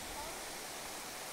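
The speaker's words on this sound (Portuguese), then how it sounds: "Olha que show essa cascata aqui, meu." Cascata São Jacó in Lomba Grande, Novo Hamburgo, spills down natural rock steps, a constant broadband rush of falling water, soft and continuous with no other sounds.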